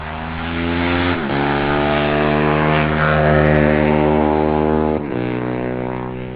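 A 250 Benelli single-cylinder racing motorcycle engine drones loudly and steadily close by, its rough buzzing note dipping briefly twice as the revs shift, with no talk over it.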